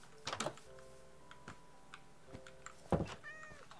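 A cat in Minecraft gives a couple of short meows, faint and close, with a few light clicks between them and no one talking.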